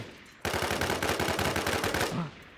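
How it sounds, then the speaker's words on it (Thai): Automatic gunfire from players chasing and shooting each other in the survival shooter Infestation: The NewZ, a loud sustained burst of rapid shots lasting about two seconds, then a quick stop with a faint voice near the end. "คนมันไล่ยิงกันอยู่ครับมันไล่ยิงกันอยู่"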